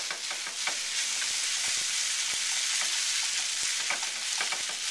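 Noodles stir-frying in sesame oil in a hot pan, a steady loud sizzle with crackling spatters and occasional scrapes of stirring throughout, with no voices.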